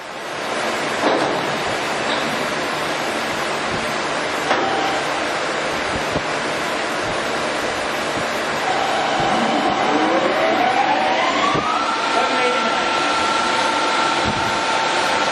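The spindle of an Axelson 18x102 engine lathe runs with a loud, continuous broadband roar, then a rising whine sweeps upward partway through as the speed climbs, with no voices.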